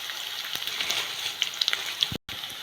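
Onions and a handful of chillies frying in hot oil, a dense steady sizzle with crackling pops close by, cutting off abruptly near the end.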